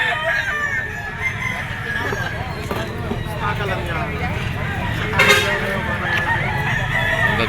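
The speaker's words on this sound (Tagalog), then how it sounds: "Ang gaganda ng mga manok dito mga tol sa lipa" Roosters at the Lipa chicken auction market crow and cluck amid a busy crowd, one loud crow standing out near the middle while people talk throughout and vehicles rumble in the background.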